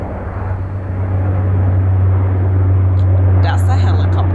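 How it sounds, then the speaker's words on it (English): A helicopter flies overhead, a loud steady low drone that swells slightly and continues beneath a person talking at the end. "that's the helicopter."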